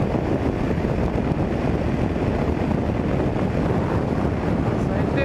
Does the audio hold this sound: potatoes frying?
no